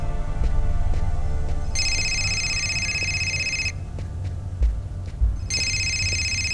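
Telephone ringing in the Fahrenheit video game, an electronic ring repeated in two long bursts with a pause between them. It sounds clearly over a low ambient hum and a few dull thuds, with no talking.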